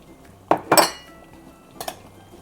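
Filipino-style spaghetti sauce seasoned with salt, pepper and Eden cheese, stirred in a pan: a few sharp metallic clinks of a utensil against the pan, close and brief, with quiet gaps between and no talking.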